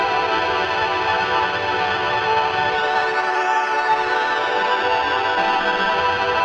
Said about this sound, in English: So the oscillator is set to cutoff for some audio rate modulation, and it sounds like this.